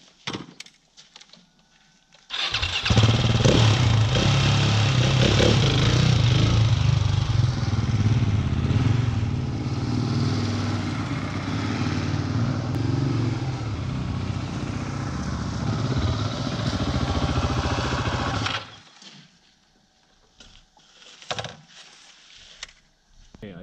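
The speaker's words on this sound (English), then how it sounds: "This is actually the first time I ever ride this motorcycle, ever." A 701 adventure motorcycle engine starts up and roars steadily for about fifteen seconds, loud and close, then cuts off leaving quiet clicks and light handling noises.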